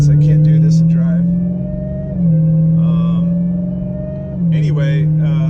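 Deep, loud engine drone from a Dodge Demon 170 pulling ahead, rising in pitch through two gear changes, each marked by a brief dip before the tone climbs again, heard from inside the car.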